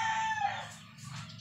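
A rooster crows once, short and somewhat distant, with a faint low background hum.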